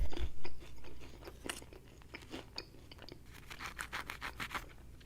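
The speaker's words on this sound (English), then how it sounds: "Crust is nice and crunchy." Buffalo chicken pizza with ranch, eaten with a crunchy crust: repeated close, crisp bites and chewing crunches in an irregular rhythm, loud and dry, with no talk.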